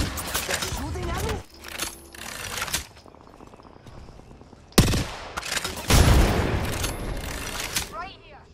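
Bursts of gunfire in the Apex Legends video game, loud broadband volleys mixed with a player's voice talking over the fight, with a sharp blast and a heavy burst of shots in the latter half.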